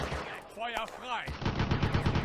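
Bursts of machine gun fire crackle in the Firefight war game, an Eastern Front city battle, with sharp rapid shots after a brief shouted voice, loud and close.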